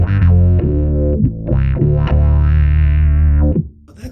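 A distorted bass guitar through an octave effect at level 5, with wah, plays sustained notes with a thick octave layer, a few short plucks between longer held tones, then fades out.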